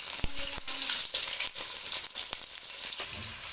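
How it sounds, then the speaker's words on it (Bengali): Chopped onions fry in hot oil with a close, bright sizzle, broken by a few short breaks and light clinks as they are moved in the pan. "পেঁয়াজটা একটু ভেজে নেব।"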